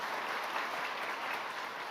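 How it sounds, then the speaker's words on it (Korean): A church congregation applauds for its volunteers and mission groups: dense, steady clapping that fills the whole stretch at an even level, with no voice above it. "우리 남녀 선교회 여러분들이라든지 그 외에 애쓰는 분들이 많은데 박수 한번 해주시고"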